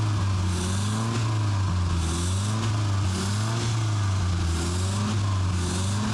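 An abandoned police cruiser, wrecked in a crash, runs at a steady idle after its first start, with a loud, constant engine drone and a low rumble throughout.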